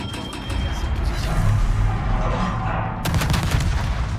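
Heavy naval artillery from a Mogador destroyer in World of Warships booms and rumbles through a sustained roar, with a sharper salvo crack near the end.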